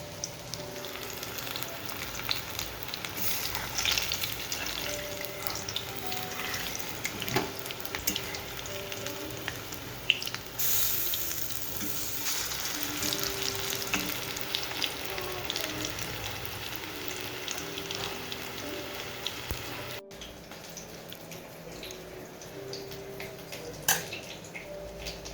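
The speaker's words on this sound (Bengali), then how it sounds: "পকোড়াটা ভাজছি" Pakoras frying in hot oil in a home kitchen, a steady soft sizzle and crackle throughout with occasional clicks, fairly quiet and close, no talking.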